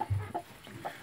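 A black Cochin hen sitting on a brood of hatching chicks gives a few short, low clucks, close by and on its own.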